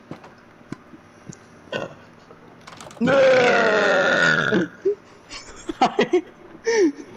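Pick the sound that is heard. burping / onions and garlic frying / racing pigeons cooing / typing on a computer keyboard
burping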